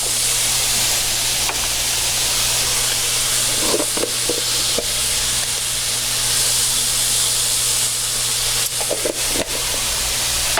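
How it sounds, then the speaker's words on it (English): Ground beef seasoned with salt and pepper browns in a pan, making a continuous hissing sizzle with a low steady hum underneath and a few brief scraping taps as the meat is broken up. No one speaks. "So I'm going to continue to break this up and get it browned."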